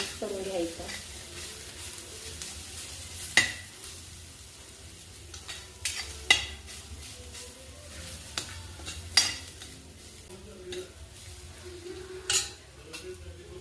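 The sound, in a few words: stirring coconut, garlic and coriander masala in pan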